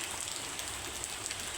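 Heavy rain pours down steadily in a downpour that has lasted day and night, soaking a black hen outdoors; a dense, even hiss of falling water holds at the same level throughout, with no voices.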